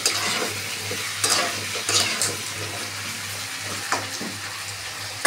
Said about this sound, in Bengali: দিয়ে কুমড়ো দিয়ে আলু দিয়ে একটু ভালো করে ভেজে নেব